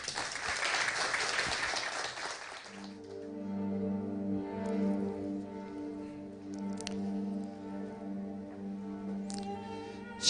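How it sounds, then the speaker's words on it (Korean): Audience applause at a Korean poetry talk event, a broad crackling burst for about two and a half seconds that gives way to a sustained tonal musical intro. "우리 박수로 청해 듣도록 하겠습니다"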